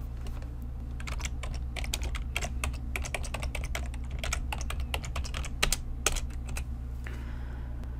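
Computer code is typed on a keyboard in a steady run of close, rapid key clicks, with a constant low hum underneath and no talking.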